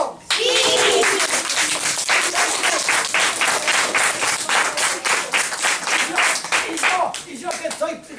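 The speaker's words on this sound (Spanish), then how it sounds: "¿Se merece un aplauso?" Schoolchildren applaud a girl in a Christmas classroom visit from Santa Claus, steady dense clapping filling the room with some cheering voices, tapering off near the end.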